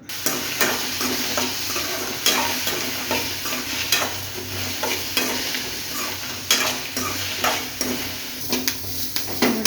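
Green beans stir-fry in a hot pan for an Indian beans palya, with a continuous sizzle punctuated by regular scraping strokes of a spatula against the pan, close up and without talk.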